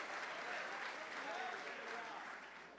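Congregation clapping at a church state convention, a faint, continuous spread of applause that fades slightly toward the end, with a voice faintly blending in beneath it.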